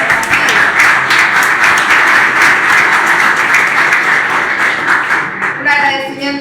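Audience applause at a Spanish-language book presentation held with judicial workers' union members, a loud, sustained crowd clapping filling the whole stretch and tapering slightly at the end.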